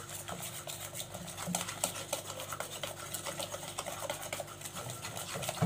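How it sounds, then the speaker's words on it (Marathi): Flour batter whisked by hand in a bowl, a rapid, steady rhythm of close clicking and scraping strokes that continues throughout at moderate loudness, with no talking. "फेटून घेऊया आपण पिठाला"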